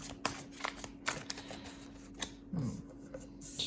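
Soft riffling and tapping of tarot cards being shuffled, with a few sharp flicks and a steady low hum in the background.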